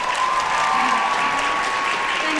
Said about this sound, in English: One more round of applause for Anna Grace.